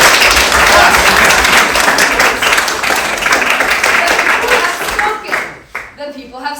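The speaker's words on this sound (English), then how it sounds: "clap your hands" A group of hikers claps hands in a vote, loud and close at first, a mix of applause and crowd voices that thins out and fades near the end as talking takes over.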